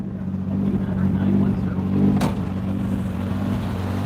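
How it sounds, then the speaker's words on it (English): A Nissan 240SX's SR20 engine hums close by with a steady low drone and a mild swell as the throttle is blipped, then holds at a constant running note. "So let's give it a rev."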